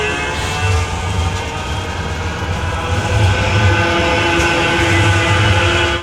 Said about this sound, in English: The tram started moving